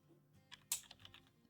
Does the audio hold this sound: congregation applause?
no